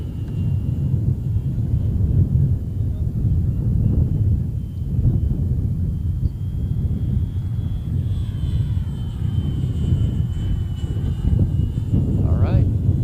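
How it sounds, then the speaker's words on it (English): Competition model airplane at a design/build/fly contest circling a track overhead, its motor drone steady and moderately loud through the whole stretch, with a rising whine near the end as it passes closer; people talk over it. "Got to keep that plane up in the air for 5 minutes."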